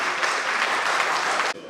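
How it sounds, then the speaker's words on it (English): An audience at an award dinner applauds in a dense, steady burst of clapping that cuts off abruptly near the end. "I want you to clap for all of them"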